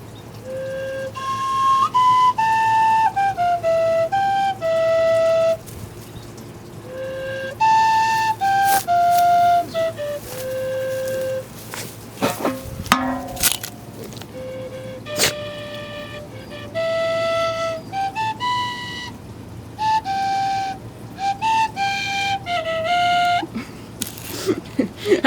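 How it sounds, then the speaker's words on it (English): Tin whistle melody played solo with clear, bright, stepwise phrases and ornamented runs, breaking off for a few seconds midway with brief clatter before the tune resumes, fairly close and alone without talking. "do you want some beautiful tin whistle music?"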